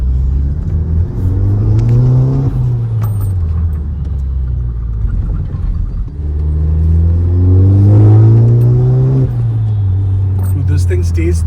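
A manual car with a bagged suspension pulls hard through the gears, its engine note climbing and dropping with each shift, loud and close inside the cabin while occupants talk over it.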